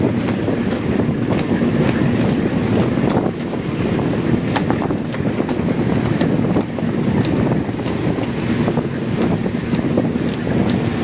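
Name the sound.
strong wind on a boat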